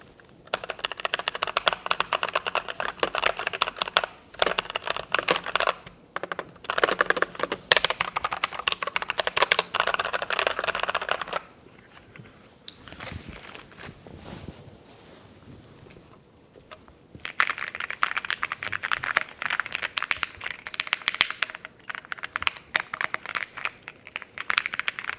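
Typing bursts on a Keychron Q1 Max mechanical keyboard with an aluminum body: dense, steady clacking runs, muted and blunted in tone, with a quieter lull midway before the typing resumes close and clear.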